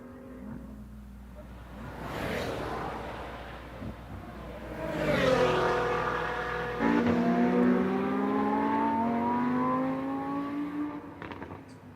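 A high-revving naturally aspirated 6.3-liter V12 race car engine screams through rising gear sweeps on a race track, dropping pitch at each upshift, loud and close with a sharp wail.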